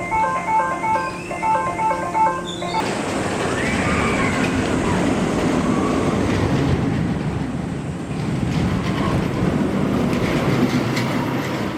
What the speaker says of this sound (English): Going to do the stand-up Togo, which is something I've not done in 17 years since Shockwave at King's Dominion.